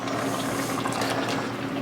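Cheese sauce poured from a container into a pot of cheeseburger soup, a continuous thick liquid pour with a steady wet rush and some gurgling, close and fairly loud, with no talking.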